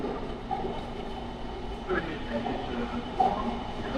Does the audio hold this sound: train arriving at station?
yes